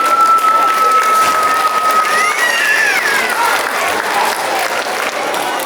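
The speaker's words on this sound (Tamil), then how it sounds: "கைதட்டுங்க." Loud, steady applause from a crowd at a Tamil school's annual day certificate presentation, dense clapping that fills the whole stretch, with a whistle-like tone briefly over it.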